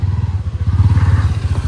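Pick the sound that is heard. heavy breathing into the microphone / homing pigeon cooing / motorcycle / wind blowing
motorcycle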